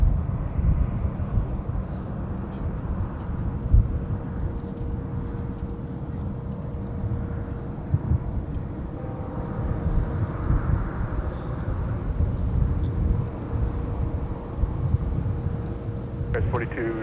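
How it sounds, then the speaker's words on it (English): A Boeing 757-300 on a Phoenix flight lands on runway 12 right at Minneapolis–St. Paul airport, a steady low jet rumble with a faint tonal whine that runs the whole time beneath a talking voice. "we're going to wait for our 757-300, our Phoenix flight to MSP tonight with that aircraft to arrive on runway 12 right"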